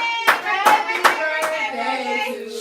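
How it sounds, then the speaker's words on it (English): A small group claps for Alan at a birthday gathering with friends, several sharp bursts of hand claps mixed with lively overlapping voices and cheering. "If we can clap for Alan"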